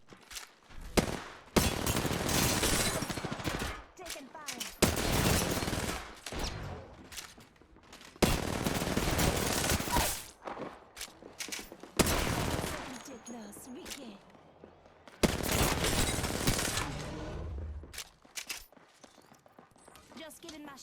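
Rapid gunfire bursts crackle during an Apex Legends match, coming in repeated loud volleys separated by short pauses, with a player's voice talking in between.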